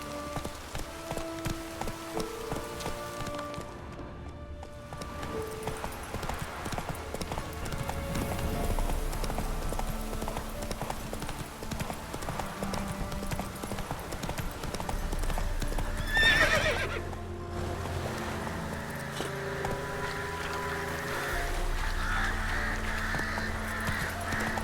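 Roach the horse gallops in The Witcher 3, with steady rhythmic hoof clip-clop close by, a whinny, and game music and ambience beneath, no talking.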